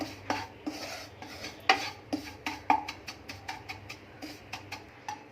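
Semolina roasts dry in a pan while a spoon scrapes and taps against the metal in a steady rhythm, a series of light clinks and scrapes about twice a second, fairly quiet.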